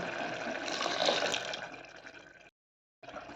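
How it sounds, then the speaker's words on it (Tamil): Water pours steadily into a cooking pan in a broad, splashing rush for a couple of seconds, then stops briefly and resumes. "கொஞ்சமாக தண்ணி ஊற்றிக்கலாம்"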